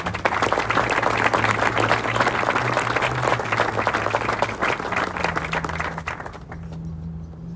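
A warm round of applause from an audience at a military I Corps assumption of responsibility ceremony, welcoming a family with two children; sustained crowd clapping with a low steady hum beneath, tapering off toward the end.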